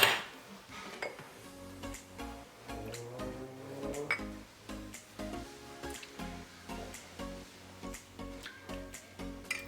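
A spoon clinks and scrapes against a mug while stirring wet mug cake ingredients of egg, vanilla and milk, a quiet, irregular series of close taps and knocks.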